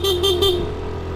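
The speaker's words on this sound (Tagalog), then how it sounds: "Busina lang tayo." A car horn sounds three quick pulsed honks on a narrow, steep one-lane road that is not yet fully paved, over the steady hum of the idling vehicle.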